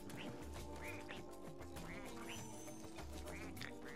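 A cartoon duck in the platform video game Rayman Legends, quacking again and again in quick nasal bursts over busy game music, faint overall.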